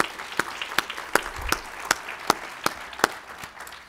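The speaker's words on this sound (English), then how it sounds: "And applaud for the Cholangiocarcinoma Foundation." Sparse audience applause at a cholangiocarcinoma foundation conference, with a few distinct, fairly evenly spaced claps standing out over a faint, thin patter of hands.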